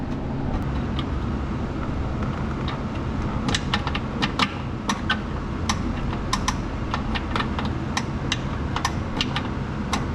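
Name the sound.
1966 Pontiac Catalina wheel clicking against the arm while being rotated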